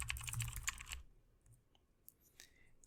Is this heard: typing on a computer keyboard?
yes